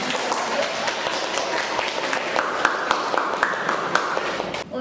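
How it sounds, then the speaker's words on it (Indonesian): Applause from a classroom group, steady dense clapping throughout with a murmur of voices underneath, moderately close and even in level. "kita beri aplaus buat"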